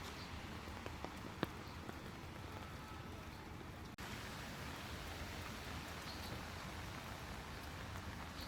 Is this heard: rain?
yes